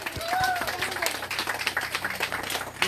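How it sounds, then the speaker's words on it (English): Audience at a wellness talk applauds the speaker, a brief burst of clapping from a small crowd under a voice. "Let's give my father a hand clap"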